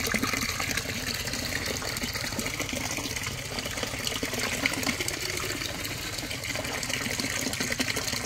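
Water steadily streams and splashes off freshly netted size-22 tilapia at a tilapia hatchery, a dense, continuous gushing close by with no voices.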